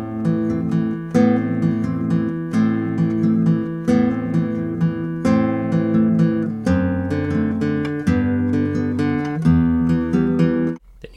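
Acoustic-style guitar strumming the chords and picked intro of a song, ringing chord patterns in a steady rhythm, clear and close, alone without talk, ending abruptly.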